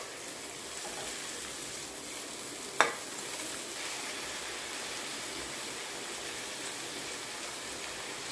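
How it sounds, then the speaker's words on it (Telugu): Amaranth leaves stir-fried in a tempering of oil and onions, a steady soft sizzle running throughout with a single sharp clink of the stirring spoon partway through, fairly faint and with no voices. "ఇప్పుడు తోటకూర కొంచెం కొంచెం తాలింపులో వేస్తూ కలుపుకోవాలి"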